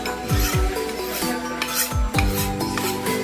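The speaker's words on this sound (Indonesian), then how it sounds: "Ataupun juga bisa pakai yang honing yang halus" A slaughtering knife is drawn along a fine honing rod in a steady, close series of metallic rasping strokes, each sweep scraping audibly and overlapping the next with no voice.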